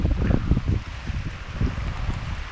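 Rain falling on a sailboat anchored off Isla Gonzales, Panama, heard as a close, dense patter with gusty rumbling buffets against the microphone, no voices.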